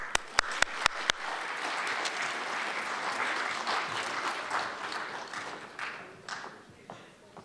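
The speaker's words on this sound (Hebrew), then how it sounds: "נקבל אותם במחיאות כפיים" An audience claps at a concert and lecture event, a few sharp isolated claps at first, then a sustained, moderately distant wash of applause that gradually thins and fades out near the end.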